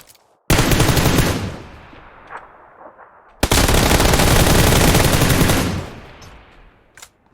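M4 assault rifle fired in PUBG PC Lite: two long, loud, close automatic bursts separated by a short pause, followed by a single faint shot and fading echoes.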